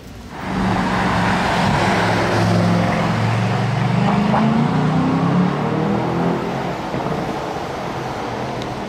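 An Aston Martin DBX707 accelerates hard away from a tunnel entrance in Monaco, a loud sustained engine roar rising in pitch through the gears amid general street noise, with no voices.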